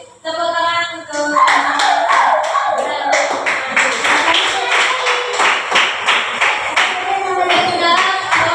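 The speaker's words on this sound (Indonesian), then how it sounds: "silakan kasih tepuk tangan untuk" Children clapping together in a classroom, a ragged burst of hand claps after brief talk, settling into uneven rhythmic clapping.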